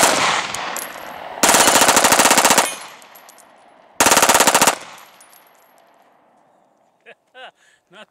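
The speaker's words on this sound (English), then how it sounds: "I'm going to try out the Glock 26 with this piece of wood and see if I can get this thing to shoot real good." A Glock 26 pistol is bump-fired rapidly with a piece of wood in two loud, close bursts of very fast shots, each ringing out into an echoing decay, followed by a few whoops from a man at the end.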